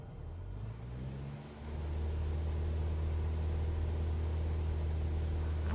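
A simulated aircraft engine in Microsoft Flight Simulator 2024 winds down from a higher pitch to a steady low drone as the throttle is pulled back to 1800 RPM, loud and continuous with no talk.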